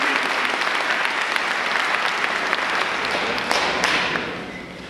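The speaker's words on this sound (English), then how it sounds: "Let's give a round of applause." Applause from the audience at a 2017 high school graduation of Central Jersey College Prep Charter School fills the room, a loud, steady wash of clapping that thins and fades near the end.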